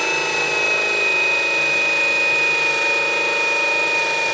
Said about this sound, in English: all I need to do is just drill a hole in the bottom of this